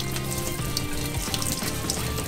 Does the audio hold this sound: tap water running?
yes